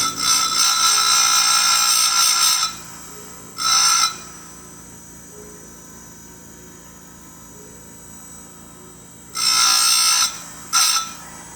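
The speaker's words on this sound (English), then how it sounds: "On the bigger chains, I use this grinder." A bench grinder sharpens chainsaw chain cutters in two loud bursts of high grinding, each followed by shorter touches, with quiet gaps between passes and no voices.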